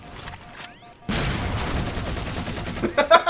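Gunfire in a Halo custom game: after a quiet lead-in, a loud burst of rapid shots erupts and keeps rattling, with sharper louder reports near the end.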